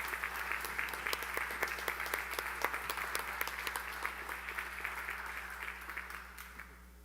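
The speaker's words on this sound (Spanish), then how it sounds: "A continuación damos un aplauso para oficialmente inaugurar este 30º Coloquio Internacional Cervantino." An audience claps to open the 30th Coloquio Internacional Cervantino, dense steady applause from a crowd in a hall that keeps up for several seconds before thinning out at the end.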